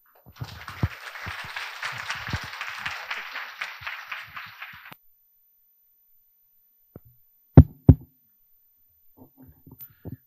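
At an academic library conference hall, an audience claps steadily for about five seconds before the applause stops abruptly, leaving near silence with a few isolated thumps and knocks.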